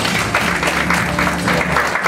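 Applause fills a small meeting room at a journalism awards ceremony at the National Assembly members' building, a steady close burst of many hands clapping for about two seconds.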